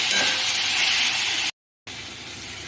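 Spice paste sautéing in a pan gives a steady, close sizzle that breaks off for a moment, then resumes more quietly.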